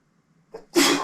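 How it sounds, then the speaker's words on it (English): A single close, forceful sneeze, preceded by a quick sharp intake of breath. "If I sneeze once, I can never sneeze once."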